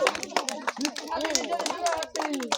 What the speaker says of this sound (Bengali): সবাই জোরে হাততালি প্রতিযোগীর জন্য